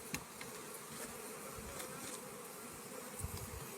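Giresun honeybees buzz at a hive frame in a dense, continuous drone close by, a steady hum with occasional brief louder passes.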